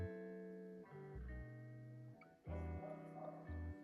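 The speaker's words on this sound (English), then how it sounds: "Sorry, I think you can hear my dogs barking." Dogs bark at home: a few sharp barks mixed with higher yips and whimpers, in bursts separated by short pauses, fairly close, with no talking.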